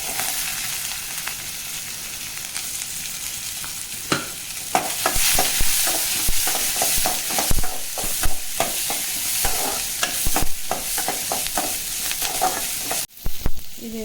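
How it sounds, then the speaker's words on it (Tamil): Chopped onion and urad dal sautéing in a pan for a drumstick leaf kootu, with continuous crackling sizzle and frequent sharp scrapes and knocks of a spatula stirring, loud and close. "இந்த உளுத்தம்பருப்பு வதக்கிறதோட வெங்காயத்தை போட்டு வதக்கிறேன்"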